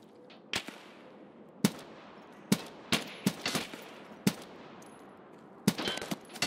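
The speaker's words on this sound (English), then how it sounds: "I'm being shot in the back from this way too." Gunfire in the Escape From Tarkov PVE video game: sharp, loud single shots and short bursts ring out irregularly over about six seconds, each with a brief decay, over a low ambient rumble.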